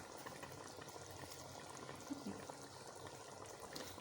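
A pot of chicken shalgam gosht curry with turnips simmers and bubbles quietly, a faint, steady burbling boil with no other sounds standing out.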